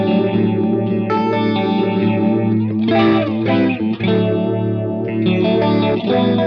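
An electric guitar runs through a JHS 3 Series phaser pedal, sustained chords swirling with sweeping, intensifying phase shifts and a few strummed changes, loud and continuous without speech.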